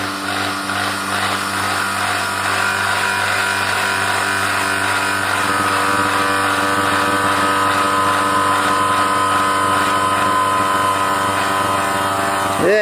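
A small water pump runs steadily after being switched on, a loud continuous motor hum with a constant buzzing tone and bubbling water, unbroken for the whole stretch with a brief shift at the very end.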